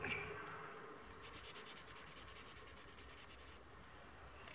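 A paper towel rubs against a thread bobbin in quick back-and-forth strokes, a soft, close, papery friction sound at low level with no talking.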